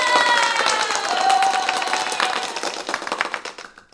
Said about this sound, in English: I need to give you a round of applause